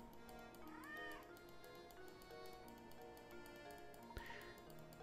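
A cat in the Professor Layton and the Curious Village video game gives two short meows, one early and one near the end, over steady looping game music.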